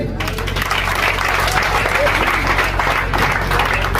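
Audience applause fills a presentation hall at a community event, a dense steady wash of clapping that holds evenly for the whole stretch with a crowd murmur beneath it.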